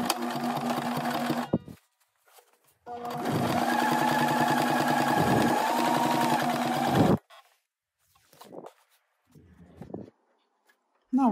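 A sewing machine stitches a patch pocket in two bursts, a short one then a steady four-second run, with quiet handling sounds between and after.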